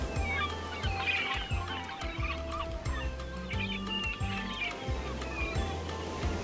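Many birds squawk and call together above the water off Boston where whales surface, a dense, continuous chatter of overlapping cries over a low, rhythmic rumble.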